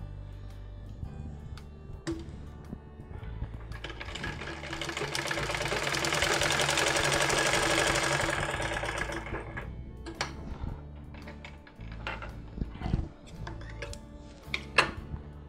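A sewing machine with a faulty top stitch runs a short burst in the middle, its motor hum and needle ticking swelling and fading, with quieter handling clicks around it.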